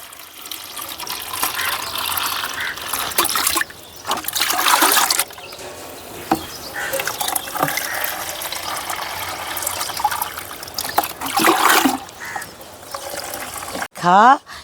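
Water is poured in a steady trickling stream into a thick fruit pulp mix, ten mugs to one mug of pulp, with splashing bursts and scraping handling noise, and a voice talks throughout.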